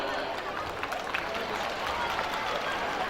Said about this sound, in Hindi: ये तालियां तो और भी कम लग रही हैं इतने खूबसूरत डांस के लिए